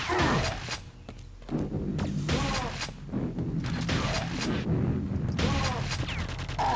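Quake 2 shotgun fire: repeated heavy blasts with booming thuds and clattering reloads in between, loud and close, mixed with other in-game combat noise and no voices.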